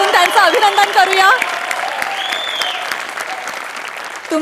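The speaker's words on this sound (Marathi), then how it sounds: "एकदा जोरदार टाळ्या वाजवून त्यांचं अभिनंदन करूया" An audience applauds loudly to congratulate an actor on his hundredth film at a comedy show, a dense burst of clapping that runs the whole time while a voice speaks over the start, then the clapping carries on alone.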